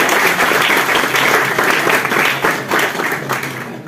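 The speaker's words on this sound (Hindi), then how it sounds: "मैम का हम फिर से एक बार ताली बजाकर बहुत बहुत स्वागत करते हैं" Loud, sustained applause from an audience at a drug de-addiction workshop at a college, dense clapping that holds steady for several seconds and fades slightly at the end.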